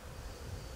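Honey bees buzz around a hive box as a faint, steady insect drone under a low background hum, with no talking.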